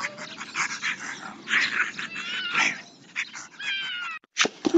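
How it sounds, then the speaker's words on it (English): A cat meows and caterwauls repeatedly, drawn-out wavering cries close and loud, mixed with animal growling and a short break near the end. "Go away. Scat Cat. Poor cat."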